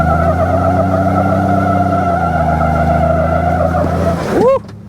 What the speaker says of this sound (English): So when my Jeep climbed up, it grabbed the sidewall of this rock and climbed up.